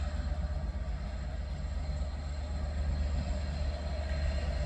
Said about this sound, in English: With DB Freightliner 67013 on the rear.